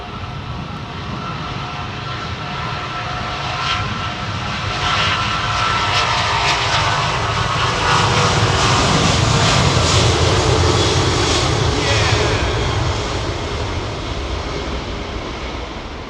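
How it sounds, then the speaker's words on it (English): Qatar Airways Airbus A380 airliner on approach at London Heathrow Airport, a loud, steady jet engine roar that swells toward the middle and stays broad and close for about sixteen seconds, with no talk. "Qatar 380 on approach"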